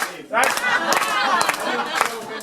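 Pub crowd in Tramore clapping along in rhythm to a song, a steady run of close, overlapping claps with voices mixed in underneath.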